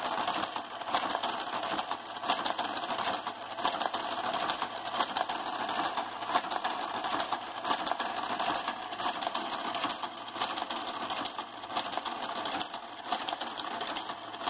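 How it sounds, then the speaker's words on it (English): Brother KG-88 garter carriage on a knitting machine runs continuously, a close, busy mechanical clatter with steady rhythmic ticking and whirring that swells and dips slightly as it travels along the bed. "again, that classic garter carriage sound"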